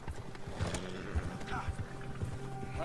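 Horse hooves clip-clop in the video game Red Dead Redemption 2, a steady close rhythm of soft thuds with game ambience and someone talking over it.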